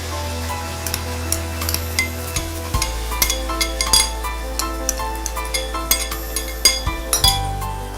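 Onions and ground vindaloo masala, made with vinegar, for a sardine vindaloo are sautéed and stirred in a pan, with frequent close metallic clinks and scrapes of a spoon against the pan over a soft, steady sizzle.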